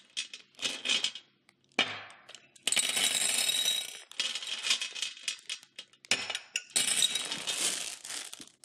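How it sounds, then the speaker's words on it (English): Glass marbles pour into a glass vase in several bursts, a dense rattling clatter of clinking glass with short pauses between pours, close and fairly loud. "take our marbles and we're gonna pour the marbles inside of the vase"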